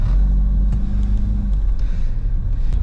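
A 1986 Pontiac Fiero pulling away, its engine a loud, steady low rumble up close that shifts slightly in pitch as the car moves off, with no voices.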